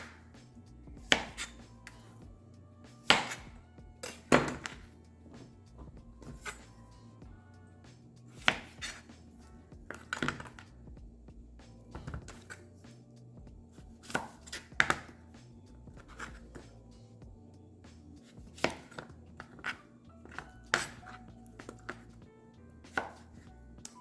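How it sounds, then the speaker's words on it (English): A knife chops zucchini into strips on a cutting board in irregular sharp knocks, some spaced apart and some in quick clusters, close and crisp against a quiet kitchen background. "show you how to cut up the zucchini"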